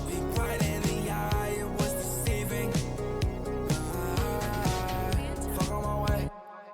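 A full song master with light tube saturation plays as a dense, loud mix of steady drums, bass and chords before cutting off abruptly near the end, with no talking.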